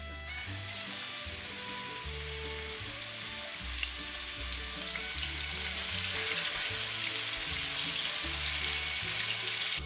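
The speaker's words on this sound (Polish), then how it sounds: "Mamy już pięknie rozgrzany olej tego względu, że chcemy, żeby mięsko położone na patelnię od razu nam się zamknęło" Venison burger patties fry in hot oil in a pan, giving a continuous dense sizzle and crackle over a low background hum, with no voices.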